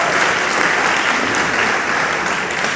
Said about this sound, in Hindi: सभी लोगों के लिए एक जोरदार ताली होनी चाहिए।